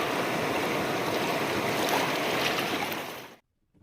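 Strong river current in Oriental Mindoro rushing over a sandy bed, a loud, dense, steady broadband wash of churning water close by that carries on for over three seconds and then stops abruptly.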